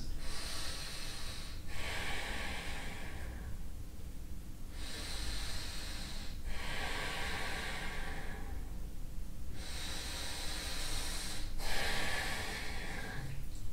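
Deep, slow breathing during a held yoga pose, three long airy inhale and exhale cycles, each swelling for a few seconds then easing, close and quiet with no talking.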